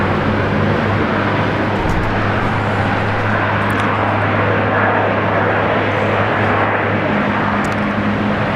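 A Delta airliner rolls for takeoff from runway 19 left at Brisbane International Airport, a loud, continuous broad engine roar with a steady low hum throughout.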